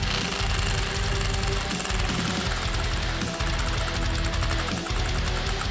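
A Demonic Omens prize wheel spins fast and close, a dense rapid rattling click that runs loud and unbroken throughout.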